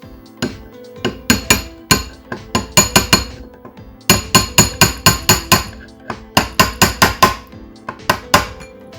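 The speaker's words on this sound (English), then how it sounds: "just hammer it in all the way." Small nails hammered into a handmade Japanese fusuma cabinet pull (hikite) with a punch: bursts of sharp, close metallic taps, several quick blows in a row, then pauses before the next run, with no talking.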